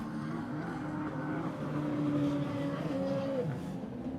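A racing jet ski at a Ski GP1 race in Pärnu, Estonia sends out a loud, steady engine drone that rises and then drops in pitch as it flies past.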